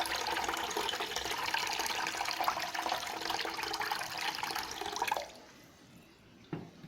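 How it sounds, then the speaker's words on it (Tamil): Water is poured steadily into a lemon jaljeera drink, a close splashing, gurgling stream lasting about five seconds before it stops, followed by a single faint clink. "இன்னும் கொஞ்சம் வாட்டர் கலக்கலாம்."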